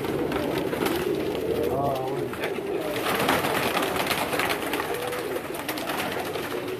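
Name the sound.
teddy pigeons cooing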